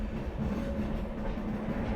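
The Sealdah–Benaras Amrit Bharat Express on its inaugural run gives a steady, close, continuous rumble of wheels on rails, with a low roar and faint clickety-clack and no voices.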